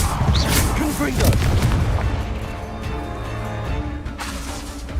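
Confringo fire spell explosions in Hogwarts Legacy, a loud run of heavy booming blasts that overlap one another, with a voice shouting over them.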